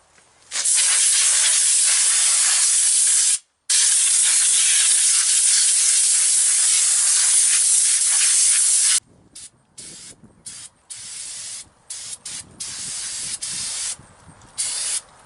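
Brake cleaner from an aerosol can is sprayed onto the oily brakes of a Dodge pickup during a wheel cylinder job. A loud, close, continuous hiss is broken once by a short gap, then gives way to a series of short spurts.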